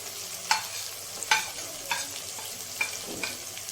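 Tomatoes fry in a pan with a soft steady sizzle broken by four or five sharp scraping stirs of a spoon, close and with no voices.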